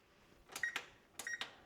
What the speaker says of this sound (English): I'm going to set the timer for 60 minutes.